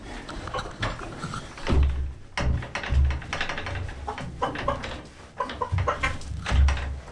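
Hens clucking in a coop during evening chores, a series of short irregular clucks and low murmurs over handling and rustling noises, fairly close and moderately loud.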